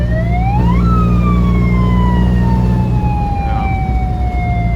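A loud siren on a Toyota HiLux wails through a speaker, rising sharply then sliding slowly down in pitch, over a steady low engine rumble.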